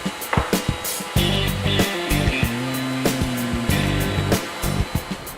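A power sander works over cut pieces of aromatic cedar to take burrs off the edges. Its motor whines and hums in bursts, with knocks and handling taps between passes, close and fairly loud.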